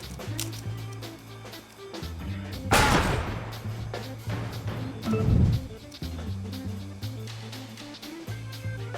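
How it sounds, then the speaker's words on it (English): A shotgun blast in the crime strategy game Empire of Sin, booming out twice over a steady looping music score, each burst loud and broadband with a short decaying tail. "Shotgun blast."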